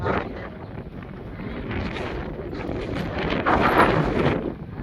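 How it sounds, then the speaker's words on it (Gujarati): Strong wind buffeting the microphone in a continuous rumbling roar that swells louder toward the end, with no voices. "તો એકદમ પવન જોરદાર આવે"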